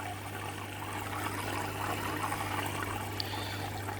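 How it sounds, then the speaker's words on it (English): Water trickles and splashes steadily from the vent of an Interpet PF2 internal aquarium filter, a constant close-up gurgling flow with a low steady hum underneath and no talking. "most of that noise you can hear is from the vents"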